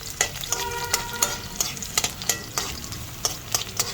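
Garlic and ginger frying in a pan while being stirred, a steady close sizzle punctuated by regular scraping strokes of the spatula, with a faint tonal hum briefly underneath.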